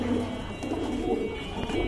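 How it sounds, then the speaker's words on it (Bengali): Pigeons at a market stall coo softly and steadily in a low, continuous murmur amid background bustle, with no clear talk over them. "এখানে কিন্তু আরেক জোড়া কবুতর দেখতে পাচ্ছেন"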